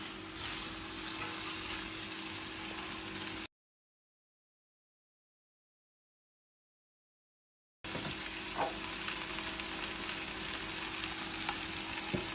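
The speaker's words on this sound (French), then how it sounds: "je vais venir mettre un fond d'eau ici, que je vais venir mélanger" Water poured into a hot pan and stirred, giving a steady loud sizzle and frying hiss, broken by a stretch of total silence midway before the sizzling resumes with faint stirring clicks.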